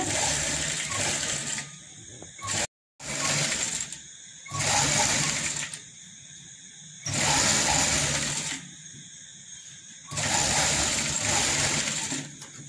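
A sewing machine stitches a folded dupatta in several bursts of rapid, close mechanical whirring, separated by short pauses, with a brief silent gap early on.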